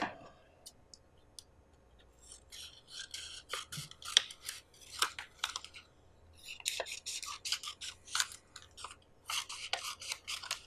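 Scissors snip paper into strips during a first-grade math lesson, close and fairly quiet, in irregular clusters of quick crisp cuts with short pauses between them and no talking.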